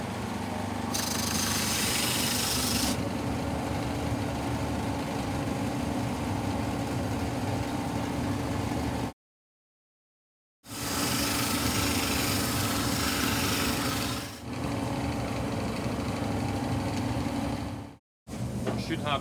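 A belt sander runs steadily while a wooden mitre joint is set at 45 degrees against the mitre fence, a constant motor whine broken by two brief cut-outs.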